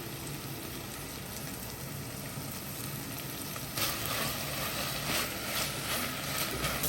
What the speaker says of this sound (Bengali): পেঁয়াজগুলো ভাজার সময় আমি এখানে লবণ দিয়ে দিব, তাহলে পেঁয়াজগুলো তাড়াতাড়ি নরম হয়ে যাবে।